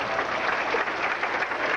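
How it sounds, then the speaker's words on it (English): A crowd at a bowling tournament, the 1988 PBA Brunswick Memorial World Open, applauding steadily, a dense, even wash of clapping throughout. "You'll hear the crowd behind Marshall today."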